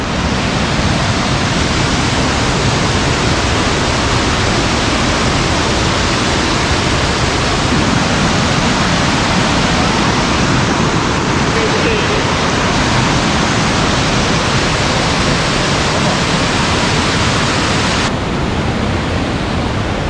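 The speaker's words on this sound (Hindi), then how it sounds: "वहाँ से रावणा वाटरफॉल दिखता है।" Ravana Falls in Ella, Sri Lanka, pours as a loud, unbroken roar of rushing water that fills the whole stretch without pause.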